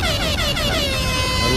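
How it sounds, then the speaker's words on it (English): Brassy, loud air horn blast used as a comedic sound effect, one sustained wavering honk filling the whole moment with no other sounds. "Air horn! Yeah, that was me."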